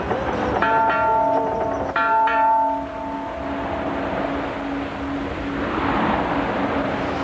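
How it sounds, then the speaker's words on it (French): Ship's bell aboard the Soviet merchant-marine training sailing ship Sedov, in use since 1921, rings out in two quick struck strikes whose tones hang and fade over steady loud wind and sea noise. "Et la cloche qui régit la vie du bord depuis"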